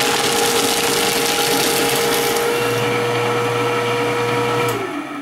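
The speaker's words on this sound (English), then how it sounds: "Let's shred some more." Fellowes Powershred 125Ci cross-cut shredder chewing through a stack of paper: a steady loud motor whir with grinding cutting noise and a pitch shift partway through, then winding down at the end, with no talk.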